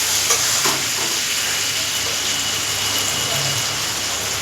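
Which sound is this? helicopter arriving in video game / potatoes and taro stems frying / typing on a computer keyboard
potatoes and taro stems frying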